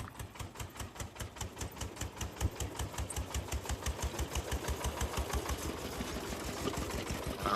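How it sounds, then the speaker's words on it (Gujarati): A tractor engine chugs with a steady, rapid, rhythmic knocking, growing gradually louder as it draws near, with no talk. "નીલનું ટ્રેક્ટર આવી ગયું છે અરવિંદભાઈ લઈને"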